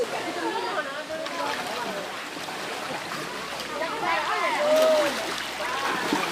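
Several people splash and play in a river, with steady broadband water churning and sloshing throughout while voices call and talk over it.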